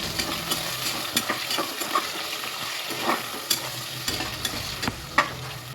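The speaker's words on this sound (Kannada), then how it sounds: "ಟೊಮೆಟೊನೂ ಅಷ್ಟೇ ಚೆನ್ನಾಗಿ ಫ್ರೈ ಆಗಬೇಕು" Tomatoes fry in a pan for vegetable bath, a steady sizzle under repeated scraping stirs and sharp clicks of the spoon against the pan, close up and continuous, with no talking.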